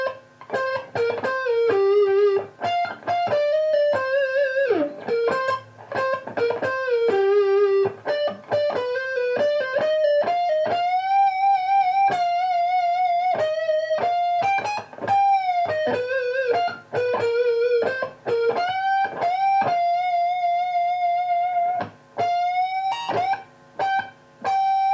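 A distorted electric guitar plays the second half of a song's guitar solo, continuous sustained, bending notes and quick runs, loud and up front with no talking.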